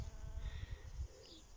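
Bees buzz around borage flowers in a garden, a low, steady hum that swells and dips as insects move close to the microphone, with no voices.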